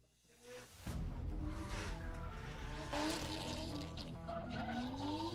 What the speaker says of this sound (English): Listen to that wastegate going for it as he whips around that opening corner